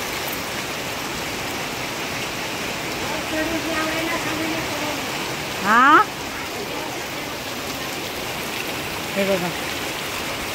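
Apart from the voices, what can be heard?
heavy rain outside a village house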